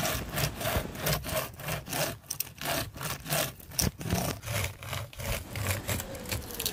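A small handmade pocket saw cuts through wood in steady back-and-forth strokes, each pass a close, rasping burst with a regular rhythm and brief pauses around the middle.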